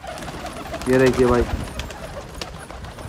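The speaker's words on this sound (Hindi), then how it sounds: "देखिए लखनऊ के कबूतर हैं" A pigeon coos a few soft, low notes close by, with someone speaking briefly around it, in Lucknow, India.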